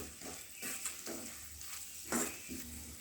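A spoon stirs an okra and tomato curry in a hot pan, making soft repeated scraping strokes over a faint, steady sizzle, quiet and close, with no speech.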